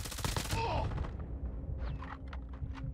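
Rapid bursts of FFAR 1 rifle fire in Call of Duty Mobile, loud and close at first, then decaying into fainter scattered shots.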